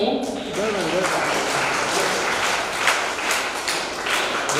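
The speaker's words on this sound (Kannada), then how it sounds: "ಮಕ್ಕಳು ಚಪ್ಪಾಳೆ ಕೊಟ್ಟು ಪ್ರೋತ್ಸಾಹಿಸಬೇಕಾಗಿ ಕೇಳ್ಕೊಳ್ತೇನೆ." Schoolchildren applaud at a school prize ceremony, with a steady wash of clapping from a crowd that runs throughout, mixed with voices and some talk.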